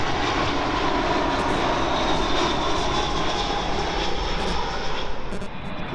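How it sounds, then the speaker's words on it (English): A British Airways Airbus A320 landing at London Heathrow from Lisbon gives a sustained, steady jet engine roar with a faint high whine, moderately close and holding even for several seconds before easing slightly. "And another BA A320 coming in from Lisbon."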